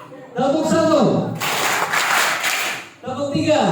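A school orientation audience of vocational students claps in a quick, even rhythm for roughly one and a half seconds, a dense crowd sound framed by someone speaking before and after.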